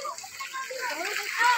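Water poured and splashing during a bath, a short continuous gush with splatter, fairly close and steady.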